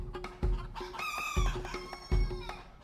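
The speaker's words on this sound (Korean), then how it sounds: "비싼 몸값을 자랑하는 초코 핑턴 반탐" A chocolate Orpington bantam, an ornamental chicken, clucks and crows close by in several short, repeated calls. Rhythmic thumps and low background noise run underneath.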